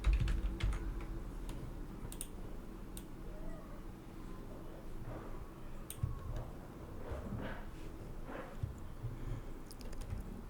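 Fingers type on a computer keyboard during a Figma app-design session, a quiet close run of light key clicks in uneven bursts over a low background hum.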